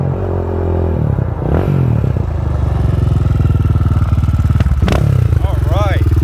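A Honda 400EX ATV roars up a road at full throttle, its engine loud and close with a steady, rapid throb that builds as it approaches, while people talk over it.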